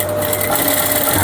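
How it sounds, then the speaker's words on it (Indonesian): Close, loud sewing machine stitching fabric along a marked line, a steady buzzing whir with a fast even pulse, heard alone throughout. "Jadi garis ini kita ikutin jahitnya di bawah, di luar garis dikit ya, atau di garis juga bisa."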